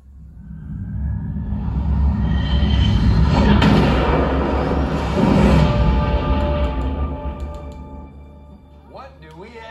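A Top Gun: Maverick movie trailer plays through a Creative Stage 360 2.1 Dolby Atmos soundbar: loud swelling rumbles, booms and engine-like roars with music and dialogue mixed in, peaking mid-clip and easing toward the end.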